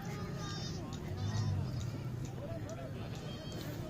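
A goat at a busy livestock market bleats several times in wavering cries amid a crowd's steady chatter, with people talking nearby throughout.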